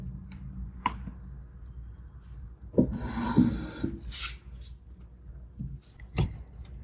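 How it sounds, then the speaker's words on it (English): A hand scraper drawn across loose potting soil packed into a soil blocking tray, giving soft rubbing and rasping scrapes with a few light clicks, close and fairly quiet, with no talking. "Scraper. Smooth it out a little bit."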